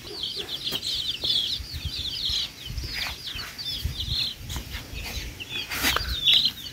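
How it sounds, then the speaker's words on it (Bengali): Village chickens clucking nearby in rural Bengal, repeated short calls scattered over several seconds against a low background of household noise. "মুরগি অনেক"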